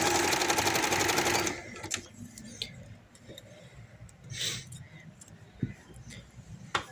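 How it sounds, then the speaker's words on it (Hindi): Sewing machine stitching the V neckline of a party-wear maxi frock, a fast loud mechanical whir for about a second and a half, then quiet handling clicks and fabric rustles. "सेम वही तरीके के साथ मैं इसके गले को सिलाई कर रही हूँ।"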